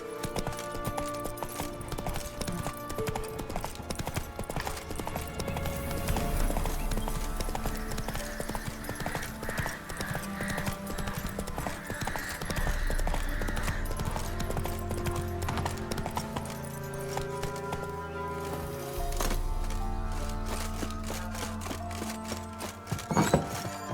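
Roach, a horse in The Witcher 3 video game set in Velen, gallops with steady clip-clop hoofbeats layered over a busy game music score, with a brief neigh and heavier thumps toward the end.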